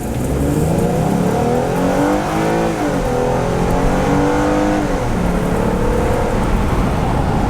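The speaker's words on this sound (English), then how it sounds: "then we'll give it some gas and see how the Police Interceptor feels" A Ford Police Interceptor Utility with all-wheel drive accelerates hard from a stop, its engine revving loud and close in a continuous rising roar, with gear changes and no talk.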